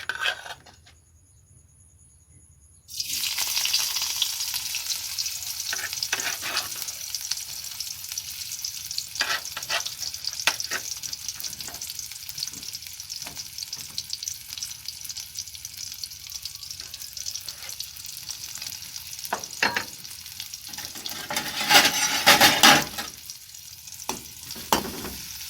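Onion sizzling in hot oil in a kadai: a loud, bright crackle bursts in after a quiet start and keeps frying steadily, with occasional stirring clinks and no talking.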